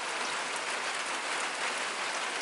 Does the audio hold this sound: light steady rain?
yes